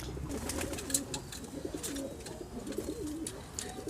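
High flyer pigeons at a loft setup in Multan coo steadily, a low rolling murmur of overlapping calls close by, with faint chirps and scattered clicks above.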